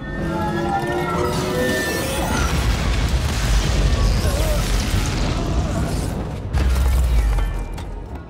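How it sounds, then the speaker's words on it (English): Mjolnir, Thor's hammer, being shattered in a Thor movie scene: a loud, sustained rumbling crash with booming impacts and a heavy low thud near the end, filling the whole stretch with dense cinematic noise. "Hela destroyed Mjolnir"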